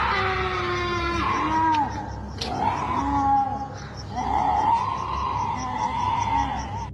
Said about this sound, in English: The screams heard in this video certainly fit the common descriptions of a keening banshee.